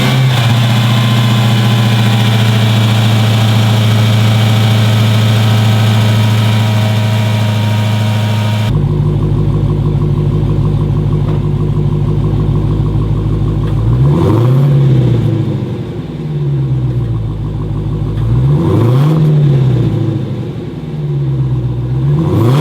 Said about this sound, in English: The snarls and roars that this engine makes are some of the coolest noises that I have ever heard from a stock production engine